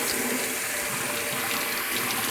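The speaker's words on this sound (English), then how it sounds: "I just run cold water over it" Cold tap water runs steadily from a kitchen faucet over drained pasta in a sink, a loud, continuous hiss and splash with no break.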